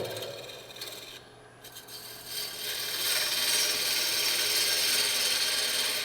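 A woodturning tool cuts into wood spinning on a lathe, giving a scraping, rasping hiss that begins quietly, then swells into a loud, continuous cut that holds steady to the end.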